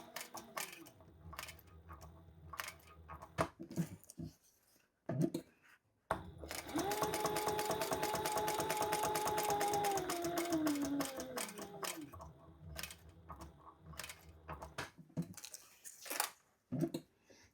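A sewing machine stitches a leather wallet in one sustained burst of rapid needle clatter with a rising and falling motor whine, framed by scattered clicks and handling knocks before and after.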